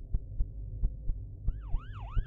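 A police siren in a video game wails in rising and falling sweeps, following a run of heavy, evenly spaced thudding beats that continue underneath it.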